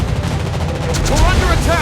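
Rapid anti-aircraft gunfire in the naval battle game World of Warships Blitz, a dense, loud stream of bursts and booms filling the clip, with a faint voice under the barrage.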